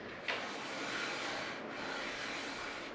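Hand sanding wood with folded sheets of 220 grit sandpaper, a steady close-up scratchy rasp that runs continuously with a brief pause partway through, with no talking.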